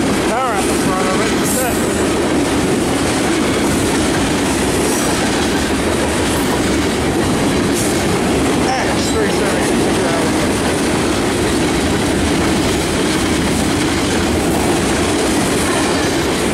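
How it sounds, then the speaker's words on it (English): Long freight train of new boxcars rolling past close by, a loud continuous roar of wheels with rhythmic clickety-clack and occasional high squeals throughout. "Oh wow, brand new boxcars. Oh, there's a bunch more."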